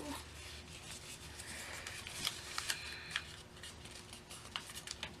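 Sheets of paper are creased and folded into an origami love bird, giving soft crinkling and papery rustles with a few sharper crisp snaps near the middle, close and quiet.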